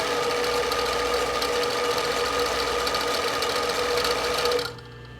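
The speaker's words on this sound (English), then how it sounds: "Your home machine won't sew this fast." Fast, steady sewing machine stitching through fabric, a continuous high-speed whir with a mechanical hum that cuts off abruptly near the end, leaving quiet room tone.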